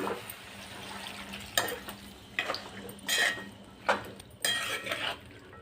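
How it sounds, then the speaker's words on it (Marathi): Hot water goes into a kadai of mixed vegetable bhaji, followed by a soft sizzle and several scraping, clattering stirs of a spoon against the pan, close by and in short bursts. "आपण हे पाणी कढईमध्ये टाकून घेऊया।"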